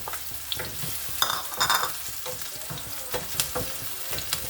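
Onion and garlic sauté in a little cooking oil, a close, busy sizzle with scraping stirs and utensil clinks breaking through in quick bursts, no talking.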